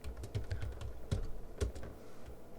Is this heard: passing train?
no